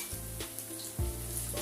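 Garlic frying in hot oil in a pan, a close steady sizzle with a few clinks and stirring scrapes, no voices.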